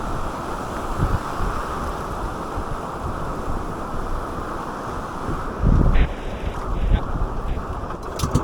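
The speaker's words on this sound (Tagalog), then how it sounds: "May alon pa." Strong wind and sea waves out on the water, a constant roaring buffet with a louder surge partway through and no one talking.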